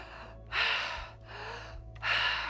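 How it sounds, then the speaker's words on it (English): Three deep chest-breathing inhales drawn in through the mouth, each a long airy breath, close to the microphone with short pauses between them. "This is the most common one, chest breathing."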